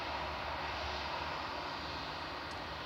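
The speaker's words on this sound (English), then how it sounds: "If you've joined in just to see the A380 arrive" Airbus A380 airliner coming down the glide slope on approach to Manchester Airport, a steady broad engine roar heard from a distance, constant and unbroken throughout.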